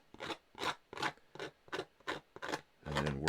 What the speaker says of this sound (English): scrape it on up